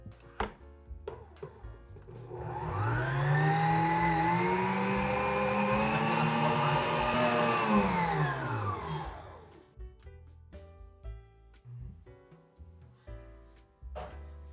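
An electric mixer whirs through banana cake batter, a rising and steady motor drone that runs for several seconds, then stops, leaving scattered kitchen clatter.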